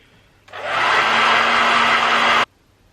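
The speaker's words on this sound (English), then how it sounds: "I just heat them up with my hairdryer" A handheld hair dryer blows on mascara to warm it, switching on with a rising whoosh and running as a loud, steady whirring airflow for about two seconds before cutting off abruptly.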